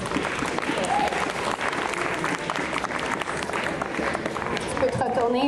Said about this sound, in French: Alors on l'applaudit.